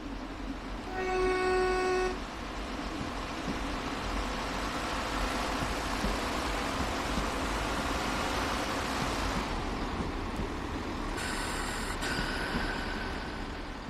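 Trains pass through a London-bound rail line in the Train Sim World video game: a steady rumbling roll with loud two-tone horn toots near the start and again near the end.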